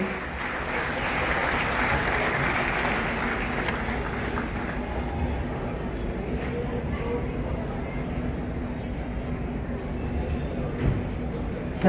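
Audience at a forest fair closing ceremony applauds to welcome the Governor, a steady, dense crowd clapping that stays fairly even across the whole stretch, with some talk underneath.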